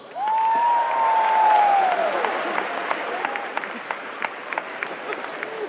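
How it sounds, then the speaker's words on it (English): A big crowd at a live comedy show in an arena claps, with a loud burst that peaks early and then thins into scattered claps and murmurs, a voice cutting through briefly. "Okay, round of applause."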